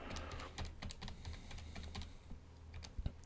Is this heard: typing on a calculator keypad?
yes